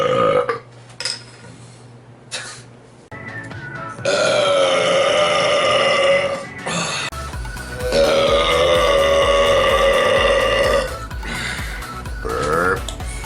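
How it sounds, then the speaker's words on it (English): A series of loud, long, close burps after drinking a carbonated drink, several drawn-out belches separated by short pauses. "Burp. I have to get all the carbonation out, otherwise I will throw."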